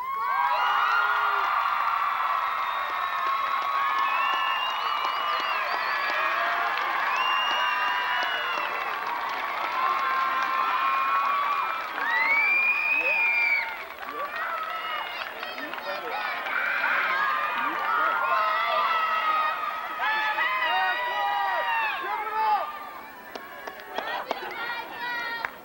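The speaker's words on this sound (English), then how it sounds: "Let's give our parents a big round of applause." A graduation crowd at a 2005 high school ceremony cheers, whoops and claps in a dense, sustained roar that fills the hall, easing slightly toward the end.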